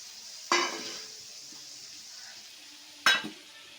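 Fried beans dropped into a pan of small fish curry, giving two sharp clanks of utensil on pan over a faint, quiet sizzle.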